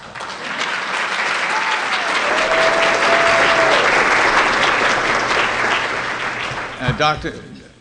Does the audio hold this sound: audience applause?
yes